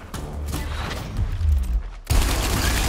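A high-powered shot in the video game Gears Tactics lands as a sudden, heavy burst after a stretch of rumbling gunfire and mechanical noise, loud and close, with no talk.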